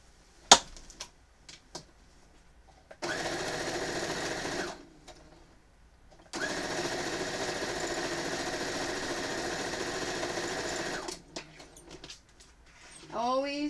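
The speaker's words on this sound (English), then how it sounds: "and then we are going to sew each side" A sewing machine runs in two long, steady bursts of stitching through quilt fabric for an Amazon Warrior quilt, separated by a short pause, with light handling clicks between them and a brief voice near the end.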